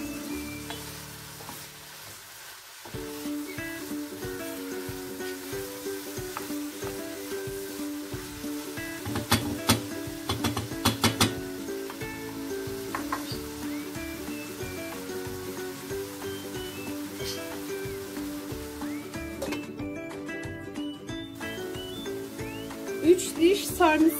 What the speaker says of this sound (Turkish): Şimdi harcımın içine patlıcanlarını da ilave ediyorum. Karıştırayım. Birkaç dakika kadar kavrulsun.